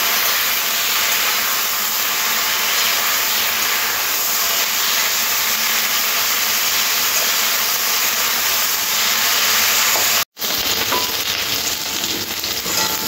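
Okra fries in hot oil with a loud, steady, dense sizzle and hiss that runs without a break. The sizzle cuts out for an instant near the end, then carries on.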